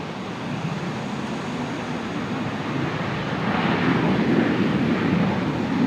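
A Velocity 73 airliner passing at Brisbane Airport, a broad steady jet roar that swells slightly louder toward the end, heard alone from a distance.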